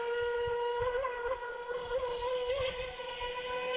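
Feilun FT011 RC speedboat on a 4S LiPo battery running at a gravel-pit lake, a steady high-pitched electric motor whine with slight pitch wobbles and water slapping underneath, close and continuous.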